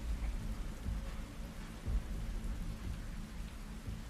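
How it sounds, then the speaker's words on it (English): Steady rain pattering on metal surfaces in The Last of Us Part 2, a dense continuous hiss with low rumbling underneath and a few heavier swells, no voices. "The rain against the metal."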